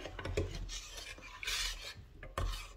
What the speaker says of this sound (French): Vous remuez de temps en temps dedans